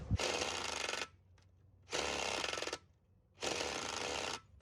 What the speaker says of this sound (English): My impact's finally given up on me.